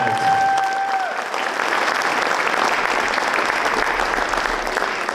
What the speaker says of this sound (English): Can we give a huge round of applause for this huge band